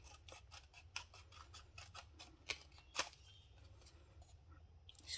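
Scissors fussy cut a paper sentiment for a card, giving a quiet, rapid series of crisp snips close by with a soft hum underneath.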